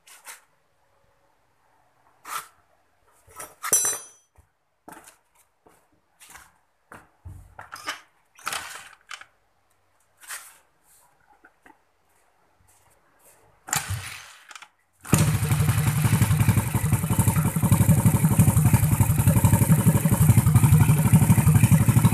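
A Honda Grand motorcycle gives scattered clicks and clatter for several seconds, then its engine catches and runs steadily and loudly without a break.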